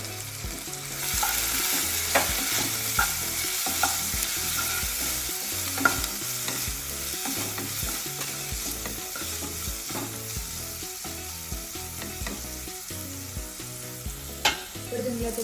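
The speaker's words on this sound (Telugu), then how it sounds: "విధంగా ఆనియన్స్ అయితే మగ్గించుకోవాలి." Onions soften in hot oil in a pan for aloo curry, a continuous close sizzle under repeated rhythmic scraping and stirring strokes of a spatula, with no talking.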